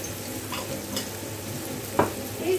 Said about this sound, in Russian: Пока обжаривается лук